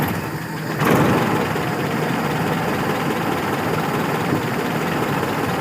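A car engine idles steadily and close by with a deep, continuous rumble and no real unevenness, after a brief rise near the start; its carburetor is out of adjustment.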